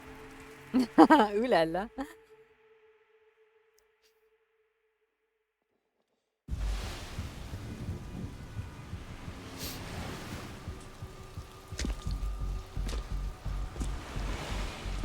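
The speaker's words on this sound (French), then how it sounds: "Il pleut tout le temps." Steady rain washes over the scene in the video game Resident Evil Requiem, with low rumbling underneath, after a man briefly exclaims in French and a few seconds of silence.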